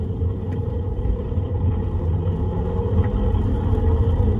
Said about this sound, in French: Et on met gaz à fond.